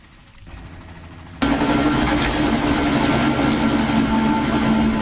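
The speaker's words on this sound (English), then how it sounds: "You've got to stop that chopper." A helicopter in the video game Deus Ex: Mankind Divided cuts in abruptly as a loud, steady rotor and engine roar that holds without a break.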